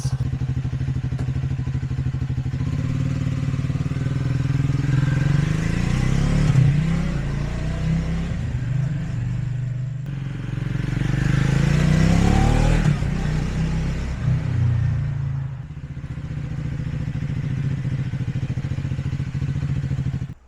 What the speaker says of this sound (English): Now let's take it for a quick spin in the parking lot